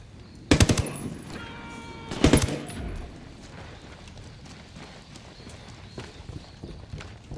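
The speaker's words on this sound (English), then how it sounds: "Opening fire on these fuckers." Two short, loud bursts of rapid gunfire in the shooter game Ghost Recon Wildlands, followed by quieter ambient game noise with faint scattered sounds.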